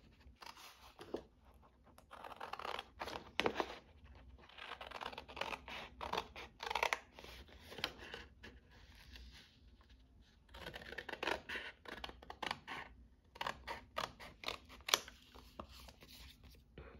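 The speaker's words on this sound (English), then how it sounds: "I'm just going to cut this out." Scissors cut through paper in bursts of short scratchy snips, close and quiet, with pauses between groups of cuts.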